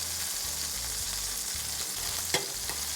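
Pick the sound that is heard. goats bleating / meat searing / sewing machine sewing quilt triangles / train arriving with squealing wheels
meat searing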